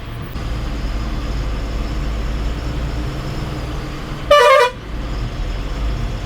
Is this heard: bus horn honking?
yes